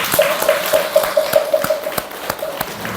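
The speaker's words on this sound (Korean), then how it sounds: "훌륭하십니다. 박수 한번." A small audience at a Buddhist dharma service claps briefly in a steady, brisk rhythm, with crisp individual claps ringing close by in a hall.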